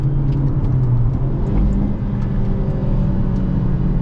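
Hyundai Avante N engine held at high revs around 4000 rpm, a loud, steady droning roar with no talk over it.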